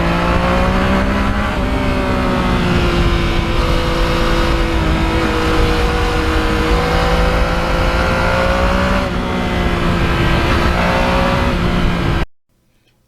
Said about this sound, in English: This bike is all about the engine.